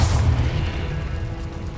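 Confringo fire spell in Hogwarts Legacy going off as a loud, deep explosive boom that peaks at once and then rumbles on steadily, with no voices.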